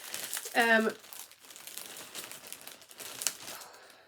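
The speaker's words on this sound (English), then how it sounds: "there will be rustling because I keep everything in plastic bags" Plastic bags crinkle and rustle as prizes are lifted out of them, with a short burst of loud crumpling followed by softer intermittent rustles, under someone speaking nearby.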